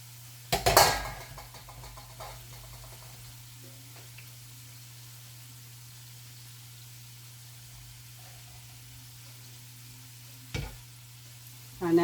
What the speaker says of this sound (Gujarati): તેને આ રીતે આપણે તળી દેવાની.